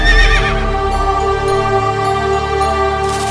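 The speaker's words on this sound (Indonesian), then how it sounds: "di lokasi kerap terdengar gemuruh kedatangan pasukan berkuda" Horses whinny loudly at the start over a continuous deep rumble of a mounted troop arriving, the neighing fading into a sustained low roar of cavalry movement throughout.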